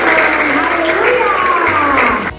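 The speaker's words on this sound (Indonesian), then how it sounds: "Tepuk tangan buat kita semuanya yang sudah berkomitmen." Applause from young people at a church youth Bible camp seminar, loud sustained clapping with crowd noise that fades out near the end as a low tone enters.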